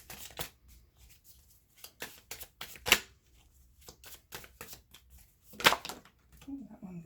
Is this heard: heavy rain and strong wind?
no